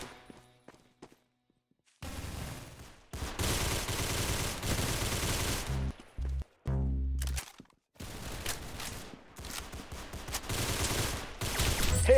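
Rapid bursts of gunfire in the Roblox game Arsenal, dense fusillades and machine-gun style volleys with short gaps of silence, loud and close.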